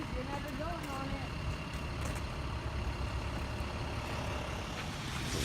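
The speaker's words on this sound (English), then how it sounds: "Oh look, the bus is here." Loud city bus rumbling past on a wet, rainy street in Florida, a steady heavy engine drone with hiss of tires, while a person talks over it.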